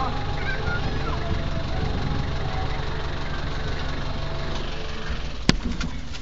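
A vehicle engine idles steadily with a low, even rumble close by, ending with a sharp click near the end, while faint voices sound in the background.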